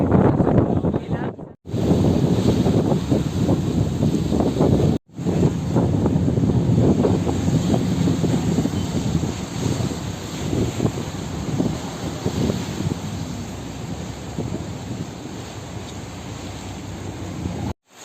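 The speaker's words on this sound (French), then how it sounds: "Il y a beaucoup de vent." Strong wind by the sea at Cinque Terre, a loud continuous roar buffeting the microphone with gusty rumble, briefly cutting out twice.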